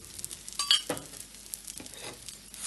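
Aloo paratha frying in oil on a pan, giving a soft crackling sizzle broken by a few brief scrapes and taps, close and fairly quiet, with no talking.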